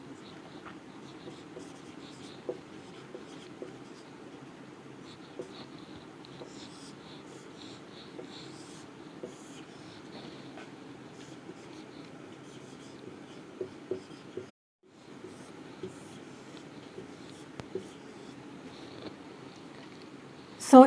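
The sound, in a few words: writing, drawing boxes for chemical equations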